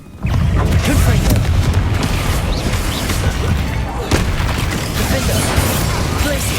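A Confringo fire spell explodes in the Hogwarts Legacy video game, a loud booming blast followed by a continuous crackling, rumbling roar with a second burst near the end.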